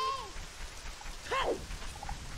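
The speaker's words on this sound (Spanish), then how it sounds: "Pero ¿por qué está lloviendo?" Rain in the video game The Legend of Zelda: Ocarina of Time, a soft steady hiss of falling rain beneath a bright, sweeping chime-like game effect and a few short tones.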